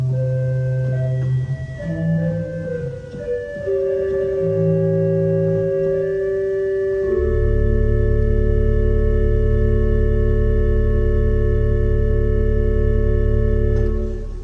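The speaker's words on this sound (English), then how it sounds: "the stop at the very bottom is a 16-foot Borden, which sounds like this" A large Binns pipe organ playing its 16-foot Bourdon stop, sustained chords that shift at first and then settle into a loud, deep, rumbling held chord for several seconds, with no talking.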